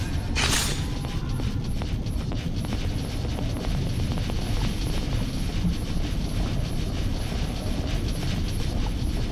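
A helicopter in God Eater Resurrection flies with a loud, continuous rotor roar and a fast, rhythmic high chop that holds steady from start to finish.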